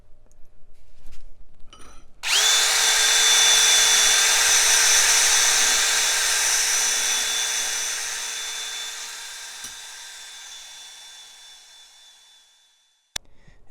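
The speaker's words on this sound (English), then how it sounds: "I'm just using a wire brush to kind of clean things up a bit" A steady, high-pitched whine sets in abruptly, holding for about eleven seconds with a gradually fading roar before it cuts off, from a power wire brush cleaning a seized Columbian bench vise handle. No one speaks.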